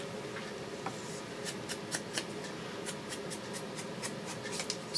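Paper card being trimmed for a handmade card, a series of small crisp snips and cuts spread across the moment over a soft room hum, close and fairly quiet.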